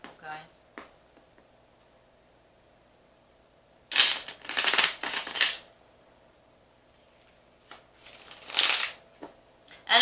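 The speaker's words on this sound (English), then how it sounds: "Let's give one more shuffle, guys." Playing cards are shuffled in two quick riffling bursts, close by, separated by quiet with a faint steady hum underneath.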